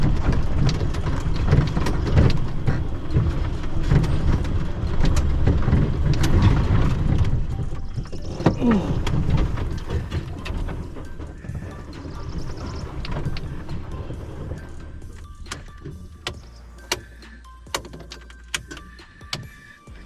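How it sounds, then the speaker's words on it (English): An electric-converted Mahindra Gypsy grinds up a steep, rutted hillside path with a continuous rumble and rattling chassis noise. As the climb eases, scattered sharp clunks and knocks stand out. "It's a long steep climb up a hillside on a rutted path."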